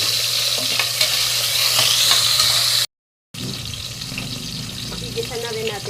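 Garlic, onion and tomato sautéing in a pan, a strong steady sizzle with stirring scrapes, broken by a brief silent gap before the frying resumes, close by.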